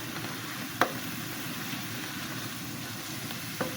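Spiced duck meat with coriander powder sautéing in a pan, a steady low sizzle with a couple of sharp spatula scrapes against the pan.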